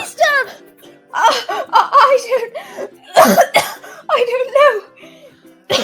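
A character's cough, part of an online murder-mystery role-play, comes through several short bursts mixed in with nearby talk and light laughter.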